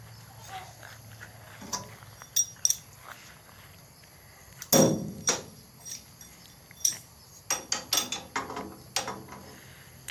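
Hammering a bearing out of the sieve shaft on a Kubota combine harvester: a series of sharp metallic knocks, sparse at first then coming in quick irregular clusters, close and fairly loud over a quiet workshop background.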